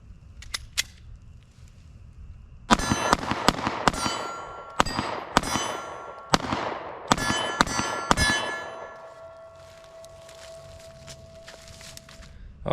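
Roughly ten sharp gunshots from a 365 pistol crack out in a quick, uneven series, each loud and close with ringing decay, after a couple of faint clicks and handling sounds.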